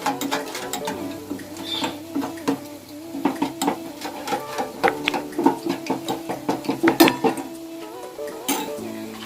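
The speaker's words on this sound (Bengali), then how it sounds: "এবার এটা জল দিয়ে একটু একটু জল দিলাম একটু মেখে নিতে হবে" Chicken being worked by hand with a little water in a bowl for a Bengali chicken curry, giving close, uneven squelching with repeated clinks and scrapes against the bowl, steady throughout with no talking.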